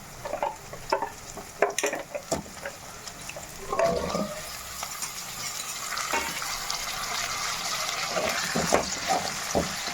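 Drumstick pieces being sautéed with onions in a pan for a tamarind kuzhambu, with steady sizzling broken by scraping stirs and sharp spatula knocks close by.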